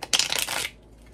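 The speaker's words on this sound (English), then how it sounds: "All right, we have shuffled." A deck of playing cards is shuffled in a quick, close riffle burst of crisp flapping and ruffling lasting about half a second, then fading into quiet.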